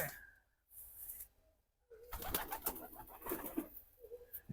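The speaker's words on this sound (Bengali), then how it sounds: "এই যে সিরাজি কবুতর এখনো বাইরে আছে" Siraji pigeons coo softly in short, repeated throaty bursts close by, with a few quiet gaps between calls and faint background rustle; no talking.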